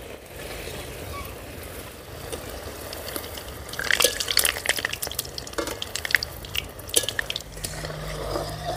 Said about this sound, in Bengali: এবারে দেখো তেল গরম হয়ে গেছে, ফুলরিগুলো তেলের মধ্যে দিয়ে দিচ্ছি।